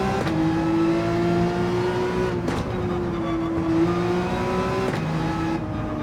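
A Ferrari 458 with its flat-plane-crank V8, driven in Gran Turismo 7, holds a loud, steady high-revving engine note that briefly breaks twice as it shifts through gears.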